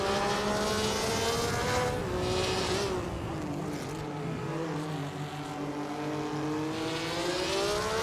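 Racing cars in a racing video game, including a 1991 Nissan Primera P10, droning steadily with whining, shifting engine tones that rise and fall as the cars speed along, continuous and fairly close with no talk.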